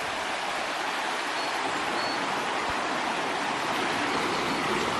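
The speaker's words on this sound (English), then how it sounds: "We come down here to the river." A river rushes steadily through thick forest of ferns, ivy and bamboo, a continuous broadband wash of flowing water close by with no letup.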